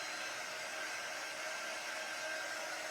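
Hair dryer blowing on a craft pennant at a crafting session, a steady continuous airy whir, fairly quiet and alone with no talking.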